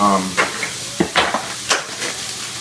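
Ground beef sizzles and crackles in a hot pan while a utensil scrapes and stirs it in a few quick strokes, close by.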